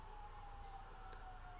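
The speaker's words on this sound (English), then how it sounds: "I hear sirens out there" Siren wailing somewhere outside, a faint steady tone held at a distance beneath a low background hum, with no rise or fall in pitch over the short span.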